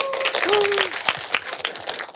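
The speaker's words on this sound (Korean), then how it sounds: "최영락 매니저님께 다시 한번 큰 박수 부탁드립니다." Applause from an audience at a tech industry speaking event, a patter of clapping mixed with a brief voice and a rising tonal sweep near the start, moderately loud and uneven.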